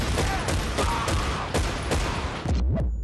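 Dense, loud gunfire from Battlefield 1943 rattles in rapid bursts of repeated shots over a constant roar of battle, ending in a deep rumbling boom.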